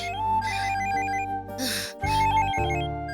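A mobile phone rings with a repeating electronic melody, steady and fairly loud in a quiet indoor room, with no one talking over it.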